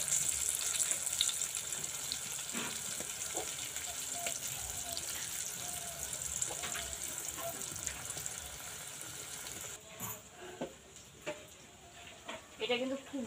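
Crispy snack of raw potato frying in very hot oil gives a continuous sizzle that drops off later, followed by a few short clinks and scrapes.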